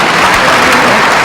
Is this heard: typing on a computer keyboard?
no